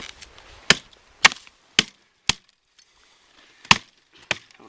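A lightweight Fire Hawk hatchet chops wood outdoors in winter, six or seven sharp, loud cracking strikes spaced irregularly with quiet pauses between them.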